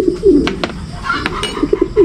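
Racing pigeons coo softly in low, throaty bursts, several calls close together, with faint clinks in the background.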